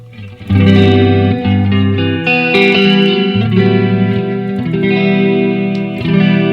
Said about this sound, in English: this chorus specifically, I feel sounds really good with the depth kind of way down